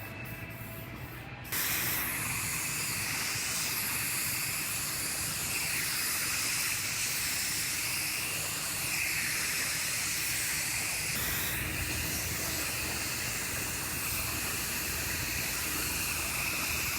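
Epoxy primer sprayed onto a car body around the window urethane area, a steady broad hiss from the spray gun running continuously for most of the stretch after a brief quiet start, close and fairly loud, with no talking.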